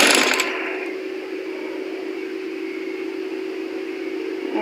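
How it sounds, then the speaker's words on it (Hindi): A sewing machine folds and stitches a white trim strip around a girl's dress neckline, opening with a brief sharp mechanical burst before settling into a steady, even whirring hum that runs continuously at close range with no talking. "गले के चारों साइड से सिलाई मशीन की मदद से फोल्डिंग कर लेनी है"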